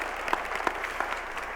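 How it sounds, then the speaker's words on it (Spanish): Brief audience applause at a ProChile event, a short stretch of soft, scattered claps over a steady background hum. "Yo pido un aplauso para los que nos visitan."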